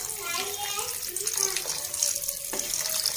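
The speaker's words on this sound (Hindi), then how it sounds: "अब थोड़ा सा हम पानी मिक्स करेंगे," Half a cup of water poured into matar paneer cooking in a pan, a steady splashing pour that runs through the whole short stretch at moderate loudness.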